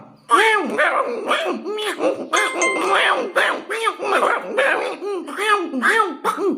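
A voice imitates animal calls in quick succession, clucking, meowing and barking, in short repeated bursts close to the microphone.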